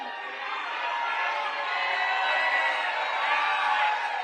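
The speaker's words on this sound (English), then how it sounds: "The rousing applause going to that party" A large crowd roars and cheers at a Biden campaign party, a dense, steady wash of voices and whoops holding at full strength throughout, heard somewhat distantly as if through a broadcast feed.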